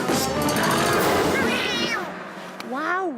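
A voice imitating a cat's meow in a French cartoon, with a drawn-out vocal meow followed by rising and falling mewing calls near the end, fairly loud and close.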